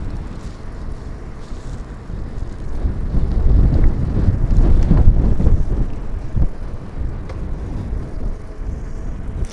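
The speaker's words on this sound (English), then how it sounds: "Maybe you hear there's a little wind." Wind blows outdoors in Medjugorje in March, a loud, continuous rumbling buffet on the microphone that swells in the middle and eases again.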